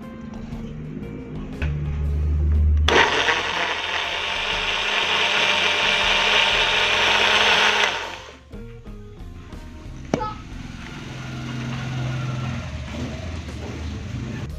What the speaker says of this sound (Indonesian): Kita tambahkan sedikit santan untuk memblender.